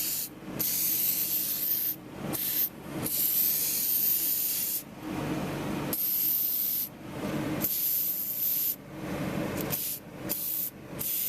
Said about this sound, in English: I'm just spraying down inside the channel here